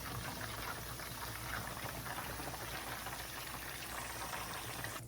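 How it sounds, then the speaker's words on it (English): Fish fries in batches in hot oil, giving a dense, continuous bubbling sizzle that stays steady and fairly quiet from start to end, with no voices. "Fish is ready. I fry them into batches."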